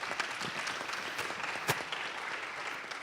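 Audience applause for a panelist introduction at a congressional panel discussion, steady crowd clapping with a few sharper nearby claps standing out.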